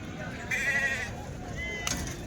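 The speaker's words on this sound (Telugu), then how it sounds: "పొట్టేలు ఎర్ర గొర్రెలు అయితే ఉన్నాయండి." Sheep bleat at a weekly sheep and goat market in Galiveedu, with red sheep and rams for sale; a few loud bleats stand out over steady market crowd chatter and background voices.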